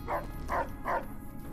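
A dog in the video game Fallout New Vegas barks three times in a quick, even rhythm, fairly close and clear over a low background hum.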